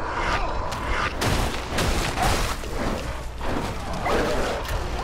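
Enemy gunners fire in Warhammer 40K: Darktide, a continuous rattle of dense gunfire with booming impacts throughout, loud and chaotic, with only faint voice traces underneath.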